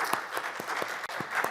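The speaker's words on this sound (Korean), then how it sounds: "박수 한번 힘차게 해드려요." Applause from a church congregation during worship, honoring the mothers present: a short, fairly faint run of rhythmic collective claps with distinct individual beats and room ambience.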